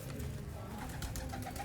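Sialkoti pearl-eyed pure breeder pigeons, both chicks and adults, coo in a brief, steady murmur against a busy background hum.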